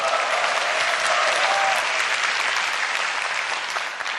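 Sustained applause from an audience, many hands clapping at once, loud and even, tapering only slightly toward the end.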